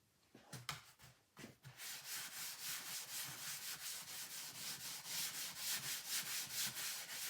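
Steady rhythmic rubbing as feed and wax are worked into a wooden phonograph horn, a few scattered knocks and handling sounds giving way to continuous close, even back-and-forth strokes.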